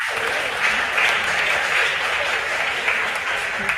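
Sustained, even applause from an audience at a school science and maths quiz, dense clapping from many hands heard loud and steady from start to finish without talk.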